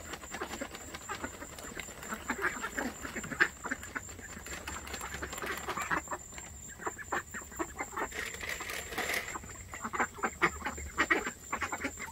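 Ducks quack repeatedly in a busy, chattering flock at feeding time, with overlapping calls and scuffling close by, steady throughout and no talk.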